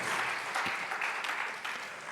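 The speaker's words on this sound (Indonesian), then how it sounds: "Yang setuju berikan tepuk tangan saudara." Audience clapping at an Indonesian church service, a short, moderately faint burst of dense applause that fades slightly toward the end.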